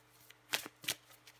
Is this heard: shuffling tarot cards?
yes